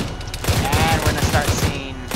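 Rapid bursts of automatic gunfire aimed at a BTR armored vehicle's tires in the modded military shooter Arma 3, a dense rattling fusillade of many close shots over about two seconds, with no talk over it.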